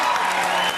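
Audience clapping in a TV talk-show studio, a dense, steady burst of applause from many hands, close and loud, lasting under a second with no voices over it.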